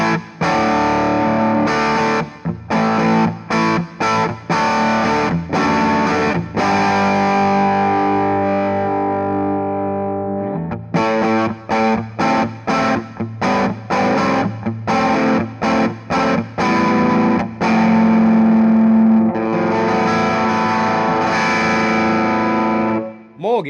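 An electric guitar runs through an EarthQuaker Devices Gary fuzz and overdrive pedal set to gently push the amp, producing loud, continuous distorted chords and riffs with frequent short stops between phrases, played alone.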